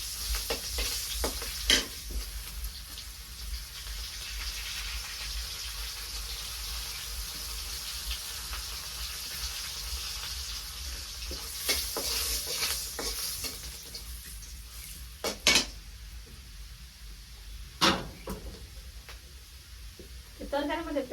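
Chopped onion frying with fish in a pan, a steady close sizzle broken by a few sharp clinks and stirring scrapes, with some running water and speech in the background.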